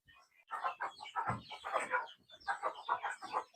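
Hens clucking inside a chicken coop in the morning, a run of soft, close, overlapping clucks and murmurs at a fairly quiet level.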